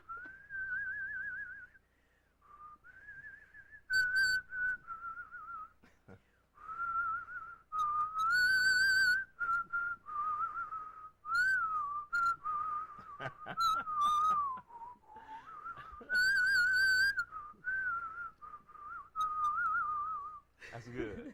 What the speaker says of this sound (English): We want to hear you whistle.